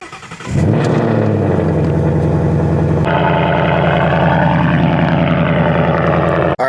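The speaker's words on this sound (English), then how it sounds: "let's get the 5-0 fired up" A car engine, a 5.0, cranks and catches, then settles into a loud, close, rumbling fast idle as it warms up, with a shift in tone partway through.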